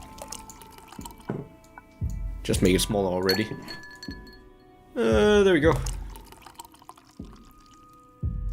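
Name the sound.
pouring tequila and clinking glass, video game bartending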